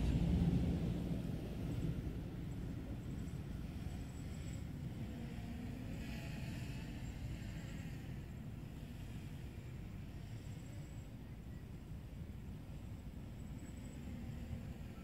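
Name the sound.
boat cruising at moderate speed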